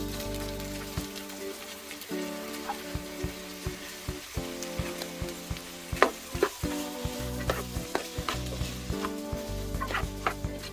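Corn tossed into a hot pan with crab, frying and sizzling steadily while a utensil stirs and scrapes in repeated close clicks and knocks, with no talking.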